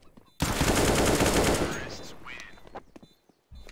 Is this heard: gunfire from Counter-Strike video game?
yes